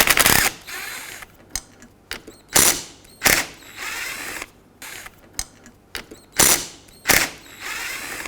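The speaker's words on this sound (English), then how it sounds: "With an 8mm socket, let's remove these 3 bolts that hold the motor onto the regulator." Ratchet with an 8mm socket backing out window regulator motor bolts on a 1997-2003 Ford F-150, repeated bursts of rapid clicking in short strokes with brief pauses between, close and crisp.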